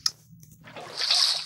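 Water poured from a bucket in a block-building video game to make an infinite water source, a soft splashing slosh that builds after a brief click and swells to a steady, close wash by the end.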